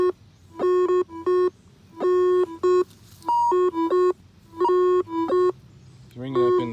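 A White's V3i metal detector sounds repeated electronic tones at a local park, clean beeps in uneven bursts and pitch steps that stand out clearly and close by, with a brief different warble at the end.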